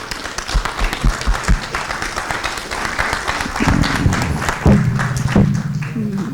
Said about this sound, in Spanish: Y pedimos un aplauso para él.